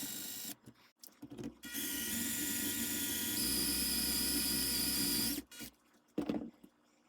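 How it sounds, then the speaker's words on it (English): A power drill bores steadily into a stuck pin on a neglected black powder revolver, a sustained high whine running about four seconds between brief starts and stops, close and loud. "I've drilled about an inch deep."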